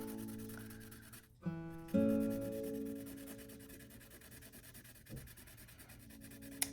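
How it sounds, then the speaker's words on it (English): Colored pencil drawing fine lines over an oil pastel layer on paper, a soft close scratchy rubbing in short strokes over a faint steady hum. "Do your oil pastel and then do your fine line work with your colored pencil."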